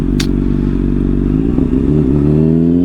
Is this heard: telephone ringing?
no